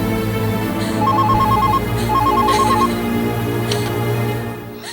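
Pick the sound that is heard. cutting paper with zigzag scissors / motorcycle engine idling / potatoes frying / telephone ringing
telephone ringing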